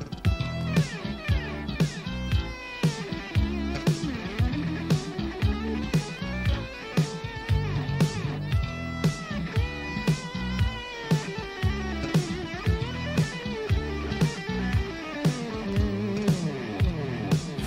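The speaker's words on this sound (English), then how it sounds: "It's an effect that automatically diminishes the echo that's causing the mess." Guitar through a TC 2290 delay with its dynamic function, the echoes ducking while notes are played and swelling back in the gaps, over a steady rhythmic backing track, moderately loud and clear, no talking.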